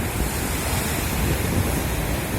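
Ocean surf rolls in as a steady, loud, broadband rush of breaking waves that holds without pause for the whole stretch, with no voices over it.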